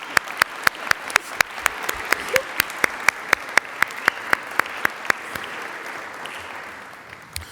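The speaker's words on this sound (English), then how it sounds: "Yes, another round of applause is fine." Audience at a Syracuse University alumni awards evening clapping in a rhythmic, even beat of sharp claps over a broad wash of applause, gradually thinning toward the end.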